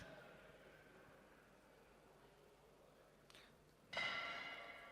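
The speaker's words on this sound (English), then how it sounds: "And there's the bell." A bell rings once to end a round at a chessboxing world championship bout, a sharp bright strike followed by a ringing decay over faint hall ambience.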